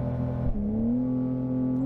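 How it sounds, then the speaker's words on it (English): A 2020 Porsche 911 Carrera S launches off the line at a drag strip, its engine note dipping briefly and then rising in a loud, steady surge of acceleration heard from inside the car. "Good launch. Feels like a Turbo S off the line."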